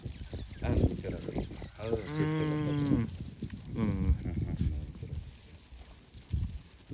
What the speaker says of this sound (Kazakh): Қара қозы.